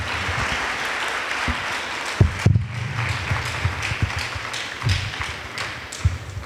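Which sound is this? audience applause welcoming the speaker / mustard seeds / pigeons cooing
audience applause welcoming the speaker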